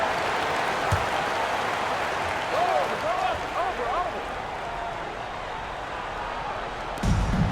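Roaring crowd noise fills a hostile basketball arena, a steady wash of cheering with occasional whistles and surges, no clear speech over it.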